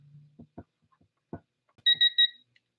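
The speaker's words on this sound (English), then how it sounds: "Well, I heard a beep." A Pittsburgh Pro digital torque wrench gives three quick, clear electronic beeps near the end, after a few soft clicks and knocks in an otherwise quiet room.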